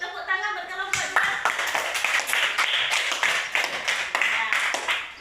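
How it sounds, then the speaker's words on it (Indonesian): A school class claps for a group of students, a short voice heard before the clapping breaks out, then a lively run of sharp, close, uneven claps from a small group that carries on to the end. "Tepuk tangan buat kelompok 2"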